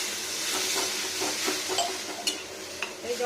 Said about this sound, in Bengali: একটু ভাজা যাক লবণ আর হলুদ।